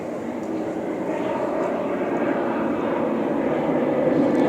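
An airplane passes overhead above the City of Ontario, a steady broad engine roar that swells gradually louder over several seconds, fairly close and continuous with no talk.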